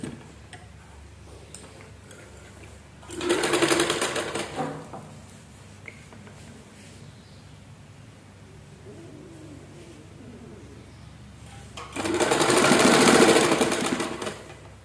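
An electric sewing machine stitching a folded curtain hem, two loud whirring bursts of rapid stitching close by, separated by a quieter pause with faint handling.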